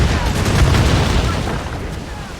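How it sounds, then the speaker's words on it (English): A cannon volley fired from sailing warships in the naval combat of Assassin's Creed Rogue: loud, deep overlapping booms merge into one heavy rumble that swells, then slowly fades over about two seconds. "They are firing a volley!"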